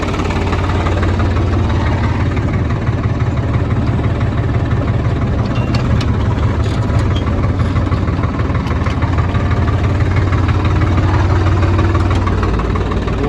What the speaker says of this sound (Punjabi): ਟਰੈਕਟਰ ਖੜ ਗਿਆ ਸਲਿੱਪ ਮਾਰਨ ਲੱਗ ਗਿਆ